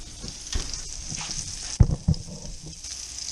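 Filet mignon steak hits a hot pan with a sudden loud sizzle and spatter, a couple of sharp bursts over a steady frying hiss, with no talking.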